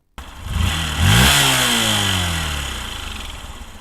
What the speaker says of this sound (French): nous allons apprendre à démarrer une moto. J'utiliserai une vieille Honda CBF 125 du début des années 2000.